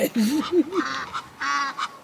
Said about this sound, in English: And then the ducks see him. And they talking mad trash.